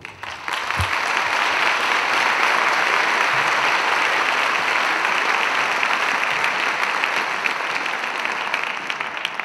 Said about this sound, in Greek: Παρακαλώ, υποδεχτείτε με ένα θερμό χειροκρότημα την παρουσιάστρια της απόψινής βραδιάς, την κυρία Μάγια Τσόπη.